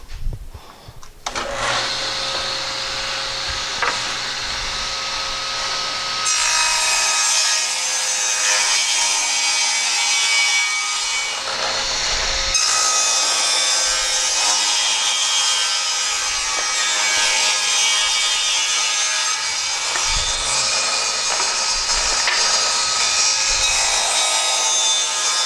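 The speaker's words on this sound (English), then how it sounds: "So now I'm going to rip the wood down to 2 3/4 inch width." A power saw rips wood down to a 2 3/4 inch width for a built-in spice rack, giving a loud, steady whine and cut that runs continuously after a brief start-up, close and alone.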